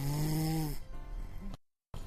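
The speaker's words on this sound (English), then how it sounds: "Barney turned over and snored like thunder, so loudly it shook the walls" Deep, loud snoring in an animated Christmas story: one long rumbling snore, a softer second breath, then a brief silence.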